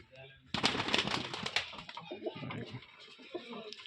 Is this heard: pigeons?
yes